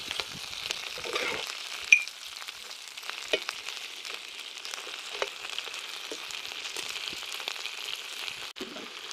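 Garlic prawns frying in a cast iron pan over an outdoor campfire, a steady close hiss and crackle of sizzling oil with scattered pops throughout.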